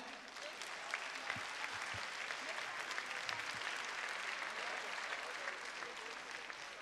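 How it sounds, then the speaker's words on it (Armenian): Audience applause at an evening concert of a composer's songs, one steady wash of clapping that holds for about seven seconds and sounds fairly distant. "Բարձր ծափարենք։"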